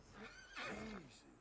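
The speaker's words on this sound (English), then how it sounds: "Good horse." A short, faint horse whinny rising and falling over about a second, heard at a distance against quiet background.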